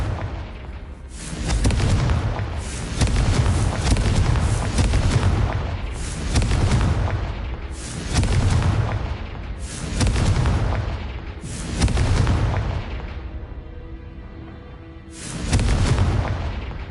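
Confringo blasting-spell explosions in Hogwarts Legacy go off as a series of loud, booming blasts, roughly one every two seconds, each with a broad rumbling tail, with a brief quieter gap near the end before a final burst.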